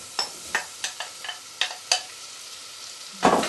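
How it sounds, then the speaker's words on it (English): Onion and potatoes get stirred in a pan for leek and potato soup, with about eight short scraping strokes of a spoon against the pan over a soft background sizzle, ending in one louder scrape; close by, with no talking. "I'm going to stir in the onion and potatoes."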